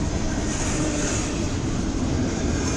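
A CSX freight train rolls past in Fostoria, Ohio, its steady, loud rumble and rail noise holding unbroken and close throughout, with no voices over it.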